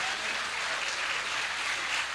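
Audience applause at a mushaira poetry gathering in Jeddah: steady, dense clapping from a crowd that holds evenly at close range throughout, with no voices rising above it.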